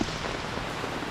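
Rain falls steadily on a campsite at Dead Pine Campsite in F.D.R. State Park, giving a dense, even patter on surfaces. It is moderately faint, and no voices are heard.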